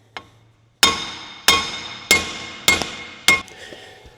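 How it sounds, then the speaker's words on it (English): A hammer smacks a U-joint cap on an old GMC semi truck, landing five hard metallic blows at a steady pace, each one clanging loudly and ringing briefly. "smack this really hard a few times, and it should push the cap that's on the bottom down"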